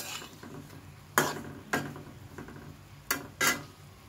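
Sharp metallic clinks and scrapes of a utensil against a pan and dish as fried banana fritters are lifted out of hot oil, four or five distinct knocks spaced irregularly over a quiet kitchen background.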